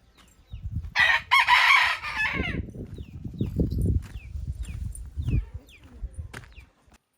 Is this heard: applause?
no